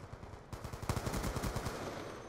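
Rapid automatic gunfire from a weapon in a video game, a steady stream of loud, evenly spaced shots that grows denser after a brief lighter burst at the start.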